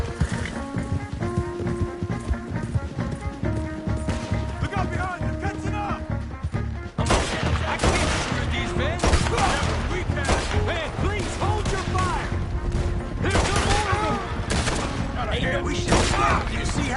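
Gunfire breaks out in a Red Dead Redemption 2 shootout, a steady stream of rapid shots layered over music and horse hooves, growing denser and louder halfway through as voices shout.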